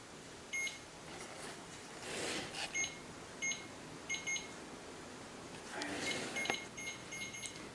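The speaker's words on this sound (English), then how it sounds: "Can you make that stop beeping" Faint electronic beeps sound in short, irregular groups against a quiet background hiss aboard a ship, with a few longer rustling bursts in between.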